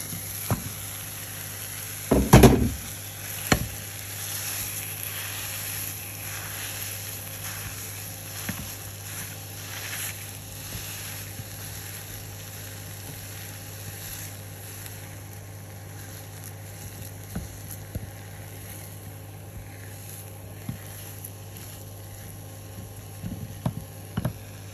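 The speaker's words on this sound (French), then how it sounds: "Je vais rajouter la viande hachée." Minced meat with garlic frying in a pan for meat bricks, a low continuous sizzle running throughout with a loud clatter near the start and occasional faint scrapes and taps.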